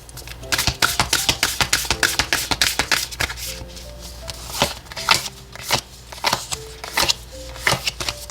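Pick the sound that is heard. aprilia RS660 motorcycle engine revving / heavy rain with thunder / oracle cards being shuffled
oracle cards being shuffled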